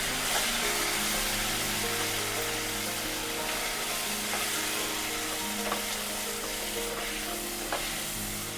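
Grated raw mango stirred into a hot tempering in a pan, giving a continuous close sizzle with scraping stir noises and no talk, steady throughout.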